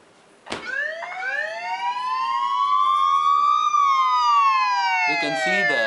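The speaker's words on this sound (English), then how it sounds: "it plays a loud tone to alert the user" A loud, sustained electronic alert tone from a mobile phone that sweeps up in pitch, holds, then slides down, following a sharp thud at the start as the phone lands on a sofa.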